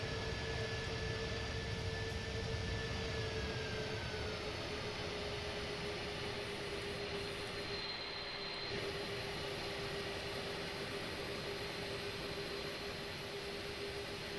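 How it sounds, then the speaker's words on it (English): An Airbus A310 airliner rolls down the runway after touchdown in Microsoft Flight Simulator 2020, with a steady loud jet roar and a high engine whine holding constant, the reverse thrusters rushing under it. "As soon as I lay back on the throttle, the reverse thrusters activate."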